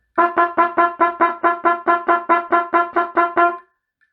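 A cornet or trumpet plays a steady quaver rhythm on a G, about fourteen clear, evenly tongued notes close up, ending with a slightly longer final note.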